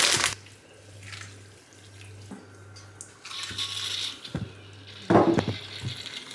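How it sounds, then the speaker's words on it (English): Boiling water pours and splashes into a bowl of noodles in a few uneven bursts, close by, with a steady low hum underneath. "put some boiling water on them for them to cook"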